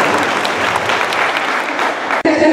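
Dense applause from the crowd at a preschool closing ceremony, continuous clapping that cuts off sharply near the end.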